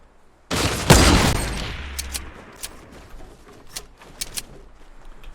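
Rapid bursts of compact SMG (P90) fire in Fortnite open with a loud, dense volley, then trail off into scattered sharp shots and distant pops over a low rumble.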